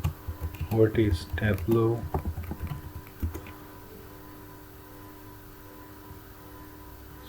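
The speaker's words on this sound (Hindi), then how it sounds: "अगर मैं गूगल पे जाऊँ और मैं यहाँ पे टाइप करूँ" Someone types a Google search on a computer keyboard, producing quick clusters of close key clicks while someone speaks over them. A quiet room hum follows after the typing stops.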